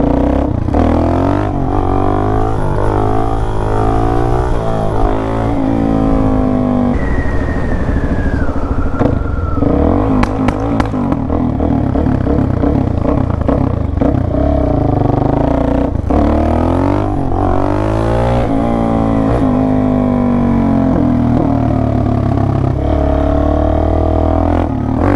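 A Suzuki DRZ400 dirt bike roars loudly up through second, third and fourth gear during wheelies, its engine pitch climbing and dropping with each shift, close and continuous throughout.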